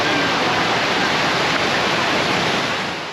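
Steady, dense rush of a creek flowing through a small cool rainforest patch, a continuous broadband watery wash that holds even and close throughout, easing slightly at the end, with no voices.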